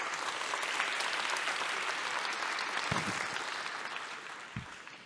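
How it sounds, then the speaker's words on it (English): Sustained applause from a summit audience fills the hall, a steady dense clatter of many hands, with a couple of brief low thumps near the end. "So give yourself a round of applause."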